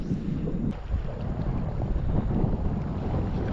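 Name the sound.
wind blowing while fishing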